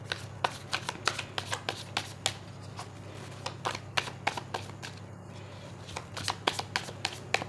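Tarot cards are shuffled by hand close up in a soft, irregular flurry of riffling snaps and taps over a quiet hum.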